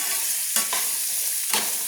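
Potatoes frying in oil in a pan, a continuous close hiss of sizzling with a couple of sharp stirring scrapes, no voices.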